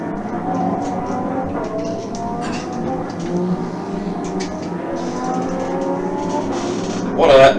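GT race cars at the Valencia circuit in a winter series race, a steady engine drone and passing cars heard at a distance under continuous commentator talk, with a louder burst at the very end.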